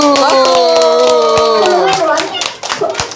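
Clapping from a church group during a Sunday school Bible lesson in Daegu, with sharp hand claps over musical or sung tones, loud and close for about two seconds, then fading into scattered claps and voices.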